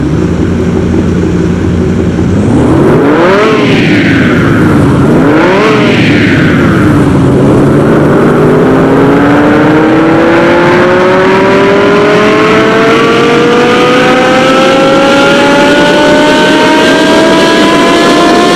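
Lamborghini Gallardo engine on a dyno in the game Car Mechanic Simulator 2021, loud and close: two sharp revs rise and fall, then one long, steady pull climbs up through the range with no one talking.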